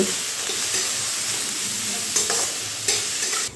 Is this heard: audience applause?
no